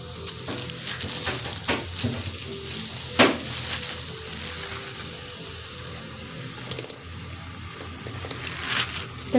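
Chicken mince and potato sizzle in a pan with tomato paste as yogurt goes in, giving a close, steady frying hiss with occasional stirring scrapes and clinks, no voices.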